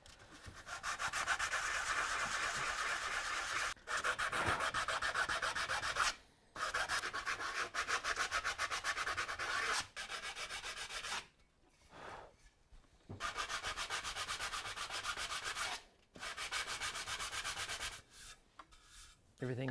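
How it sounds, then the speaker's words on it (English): Sandpaper rubs along a handmade wooden sword in long, steady abrasive strokes, broken by several short pauses, close and fairly loud with no talking. "the sandpaper smooths it out pretty nice"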